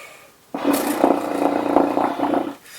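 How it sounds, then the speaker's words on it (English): Air flutters on a horn, flutter tonguing air through the instrument, give a breathy rolling rasp lasting about two seconds with a sudden start and fade, close and alone without talk. "I do what I call air flutters on the horn, and it'll sound like this."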